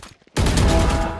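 Valorant gunfire during a VCT Pacific 2025 match: after a near-silent moment, a sudden loud burst of rapid shots erupts and rings out for about a second.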